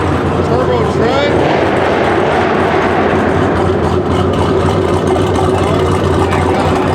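A turbocharged truck engine at a nighttime car meet in Dallas rumbles loud and close with a steady low drone, mixed with crowd noise and excited talk throughout.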